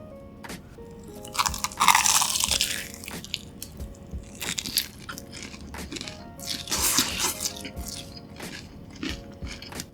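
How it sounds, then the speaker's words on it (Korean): A kielbasa cheese hot dog being bitten and chewed up close in a quiet mukbang setting: loud crunchy bites followed by wet, squishy chewing that pauses and resumes, with no talking. "케이바사 치즈 핫도그도 바로 먹어볼게요"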